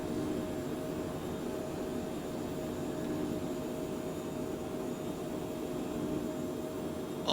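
Steady, even roar of a Phenom business jet's engines climbing after takeoff in a flight simulator, a constant broadband whoosh with a faint hum, unchanging throughout and with no talk.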